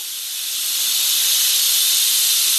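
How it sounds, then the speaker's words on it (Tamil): A steady, loud hiss of boiling water poured onto rice flour, streaming and steaming, swelling in the first moment and then holding constant with no voices. "இப்ப கொதிக்கிற தண்ணி எடுத்து அப்படியே தலைமையில ஊத்துவங்க"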